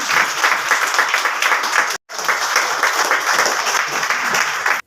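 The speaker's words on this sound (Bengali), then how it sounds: "জোরে তালি দিবেন।" Loud audience applause at a Sonali Life Bahaddarhat branch annual business development and training event, two sustained bursts of dense clapping from a crowd in a hall, broken by a brief silence.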